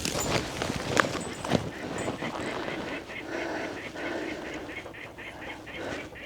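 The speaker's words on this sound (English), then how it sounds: "Bird's going nuts." Birds calling loudly and repeatedly outdoors on a rocky mountaintop along an abandoned railroad, with sharp chirps and squawks over steady background noise.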